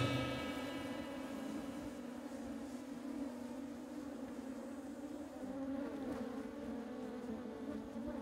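Honeybees buzzing steadily and fairly close during honey harvesting by a beekeeper, a dense continuous drone with no voices.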